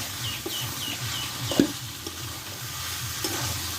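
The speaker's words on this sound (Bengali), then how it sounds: "আরও এক মিনিট ভালোভাবে কষে নেব দেখো আলুগুলো ভালোভাবে আমি কষে নিয়েছি মশলার সঙ্গে" Potatoes being sautéed with spices in a pan for a Bengali aloo dum, with a soft steady sizzle under repeated scraping stirs and a louder clink of the spoon against the pan partway through, with no speech.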